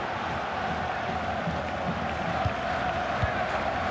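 A stadium crowd in the FIFA 23 video game, Croatia vs. Morocco in the World Cup final, roars in a steady, distant wash of cheering and noise, with a few faint thuds underneath.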